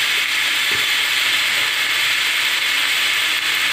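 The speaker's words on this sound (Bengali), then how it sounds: "কুঁদরি আর আলুটা দিয়ে এবারে নাড়াচাড়া করে ভাজা ভাজা করে দেবো" Ivy gourd and potato pieces stir-fry in hot oil in a pan, giving a loud, continuous sizzling hiss with faint scraping clicks and no voices.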